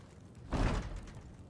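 A locked door in Resident Evil 4 Remake rattles and thumps once in a short dull burst, loud for a moment, then fading back into quiet game ambience.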